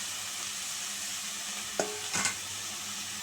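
Bitter gourd and potato mixture fries in a pan, a steady soft sizzle punctuated by two brief clatters of stirring against the pan.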